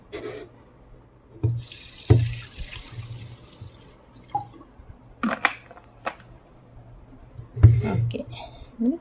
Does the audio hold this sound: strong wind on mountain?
no